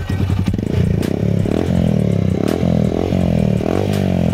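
A Honda Shine SP125 motorcycle with a wrapped exhaust pipe idles close by, a loud, throbbing engine note that rises in several short revs and settles back between them.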